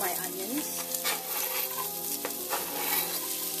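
Aromatics fry in heated oil in a soup pan for a Vietnamese chicken curry, a steady close sizzle with stirring scrapes and faint background hum, and no voice.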